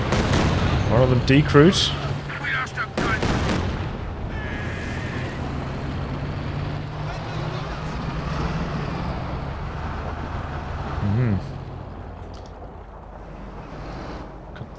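Katyusha rocket barrage pounding enemy Raketen guns in Company of Heroes 2, a rumbling spread of explosions and battle noise that stays steady throughout, with a voice talking over it early on.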